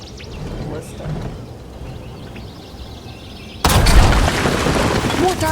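An explosion bolt fired from a ballista in the fantasy action game Dragon Age: The Veilguard, a sudden loud blast that cuts in after a quieter stretch of game ambience and leaves a dense, sustained roar to the end.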